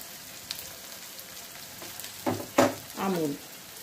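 Amul butter sizzling in a frying pan for chicken do pyaaza, faint at first, then louder crackling bursts near the end, with a few light clicks and no talking.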